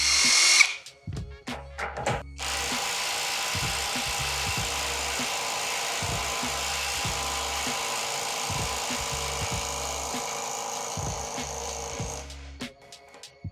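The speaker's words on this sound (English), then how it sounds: "Let's try to loosen the nut, which has been tightened to a torque of 800 N." A small GISAM impact wrench on its highest setting hammers against a nut tightened to 800 N·m, sending a steady rapid stream of impact blows for about ten seconds after a few short starting bursts, loud and close, with no speech.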